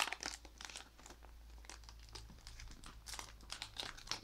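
A special-edition trading card booster pack wrapper is opened, giving soft, quiet crinkling and crackling foil sounds in short irregular bursts, close to the microphone.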